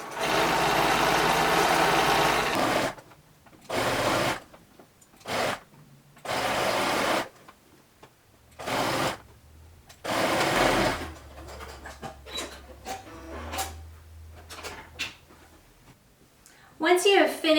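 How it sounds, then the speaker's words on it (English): A sewing machine stitches a pinned tier onto a ruffled skirt, running in several separate bursts of loud, even whirring with short gaps between them, followed by a quieter stretch of fabric handling and soft clicks. "we're going to take it over to the machine and we're going to stitch it on"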